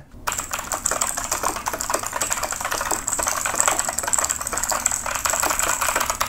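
Rapid, steady clacking of keys on a budget RGB gaming mechanical keyboard, close and fairly loud, continuing without pause and with no voices.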